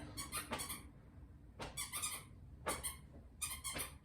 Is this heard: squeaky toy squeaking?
yes